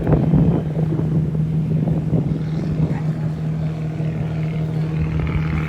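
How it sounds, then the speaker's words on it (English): A boat on the Chao Phraya River where it meets the Sak River, its engines giving a steady low roar with a constant drone and wind buffeting the microphone throughout, with no separate cable groans standing out. "as the engines roar and the cables groan"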